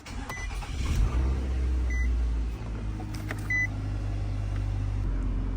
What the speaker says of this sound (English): Step on the brake and start it.